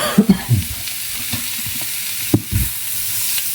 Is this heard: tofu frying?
yes